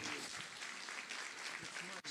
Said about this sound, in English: Round of applause for Martin,